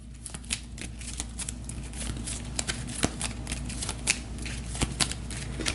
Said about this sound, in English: I'll shuffle up the AI deck